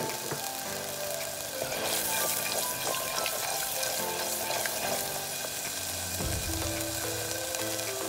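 Spices and green chilies sizzle and fry steadily in a pan while cooking mustard-leaf saag, a continuous close crackling hiss with occasional stirring scrapes and no voices.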